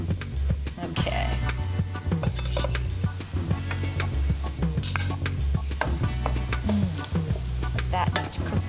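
Garlic and onions sizzle steadily in a pan while a utensil stirs them and clinks against the metal at close range, and a voice speaks briefly.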